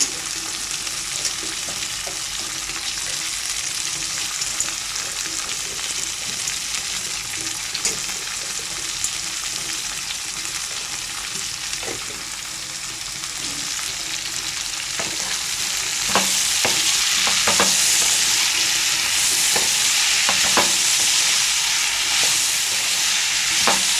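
Cluster bean pieces sizzle steadily in hot oil in a pan, with scraping stirs that grow louder and more frequent toward the end, close and alone without talk.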